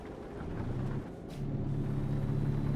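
An International LT truck engine in American Truck Simulator drones in a low, steady rumble, briefly dipping then building again to a fuller, continuous hum, with a short hiss partway through.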